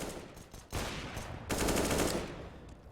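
AK-47 rifle fire in Counter-Strike on the map Train, in a competitive match: loud bursts of automatic gunfire in two or three runs, the last burst the longest and heaviest.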